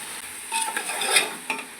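Mutton pulao masala fries and sizzles in a pan while a spoon scrapes and stirs it, with a steady crackle and a few sharper clinks of the utensil against the pan, close by and without talk.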